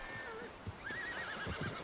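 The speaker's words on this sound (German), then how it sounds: "ich muss nur die Pferde beruhigen" Horses in Red Dead Redemption 2 give two rising whinnies, one short and one longer, with soft hoof clops underneath, fairly quiet.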